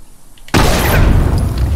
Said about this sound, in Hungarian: amúgy mekkorát robbant, hallod?